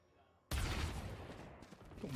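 Sniper rifle shots in the Valorant video game during a PRX vs GE VCT Pacific esports match, with a sudden loud blast followed by dense sustained gunfire and explosive noise under crowd or caster ambience.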